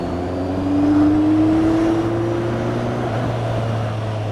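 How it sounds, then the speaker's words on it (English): A Kawasaki Z1000 SX sports tourer motorcycle engine drones steadily through a loud exhaust, with a rising engine tone as it pulls under speed, heard up close during a ride with no talking. "that exhaust is loud, isn't it?"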